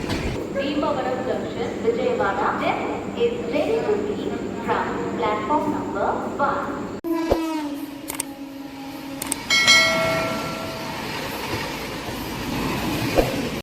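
A MEMU train pulls in on the adjacent track at Bhimavaram Junction with a steady rolling rumble and clatter. Sustained tonal horn-like sounds cut in partway through, and people talk over the station noise.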